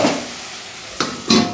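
Potatoes frying in a pan for peyaj shak posto, a soft continuous sizzle broken by two sharper scrapes or clinks of a utensil near the end, close and fairly loud, no talking.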